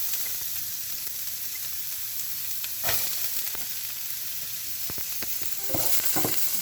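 Onions sauté in oil in a pan, giving a continuous soft sizzle with occasional stirring scrapes and clicks, steady and close with no voices.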